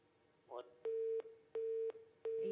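Repeated electronic telephone tone after a dropped call-in line on a religious radio broadcast: three steady, loud beeps with short gaps, following a brief murmur.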